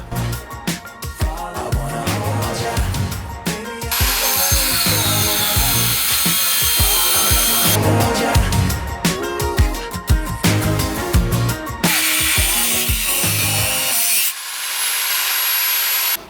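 A C&R cutting disc on an angle grinder cuts metal in a disc test, giving a loud, harsh, sustained grinding whine broken by short pauses and restarts, with a quieter stretch near the end.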